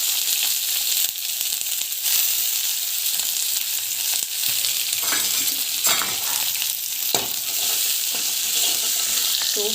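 Onions frying in oil with mustard seeds and cumin, a steady dense sizzle with occasional stirring scrapes, close and continuous throughout.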